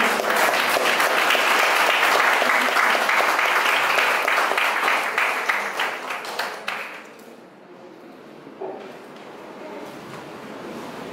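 A church congregation claps loudly for the Lord in a dense, sustained round of applause that fades after about seven seconds, leaving a quieter room with faint sounds.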